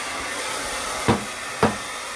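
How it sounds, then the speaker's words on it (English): A hair dryer blows steadily at close range with a constant broadband hiss, broken twice by brief knocks. "I'll just put the hairdryer on super quick before we lay down the putty"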